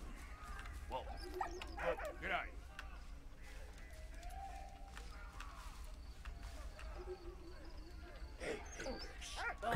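Dog in the World War I game Valiant Hearts: The Great War barks and whimpers in short bursts over game music and ambience, fairly quiet, with a person talking.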